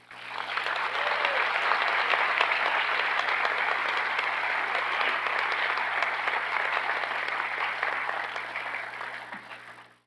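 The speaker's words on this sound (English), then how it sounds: "Would you please acknowledge the generosity with a round of applause?" An evening student awards celebration audience applauds in one sustained burst of dense clapping, rising quickly, holding steady for several seconds and tapering off at the end.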